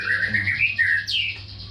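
A white-rumped shama (murai batu) sings close and loud in clear, continuous whistled phrases that slide up and down, ending in a rising note. The song is heard alone without voices.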